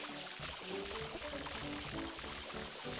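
Water jets from the hand-held nozzle in Super Mario Sunshine, a steady hissing, pouring spray that runs continuously at moderate loudness with game music or effects in the background.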